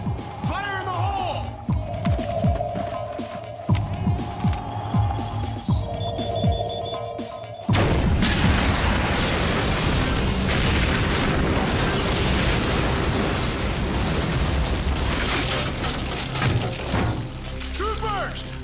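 Animated sci-fi battle with troopers, a heavy rumbling explosion erupts midway and roars on as a sustained loud blast wash, preceded by shouting voices, electronic tones and combat noise.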